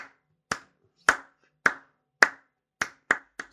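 Hand claps ring out one at a time, about eight sharp isolated cracks spaced roughly half a second apart and bunching closer near the end, close and clear against silence.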